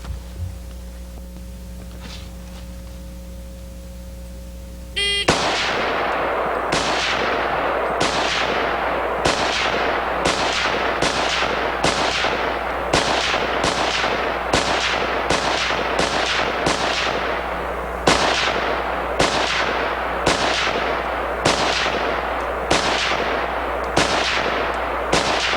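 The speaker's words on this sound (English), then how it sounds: "That's 20 rounds rapid fire" Rapid rifle fire from an Israeli FAL-pattern rifle at a shooting range: about twenty sharp, loud shots in a fast, steady string after a brief quiet hum, with a short pause partway through.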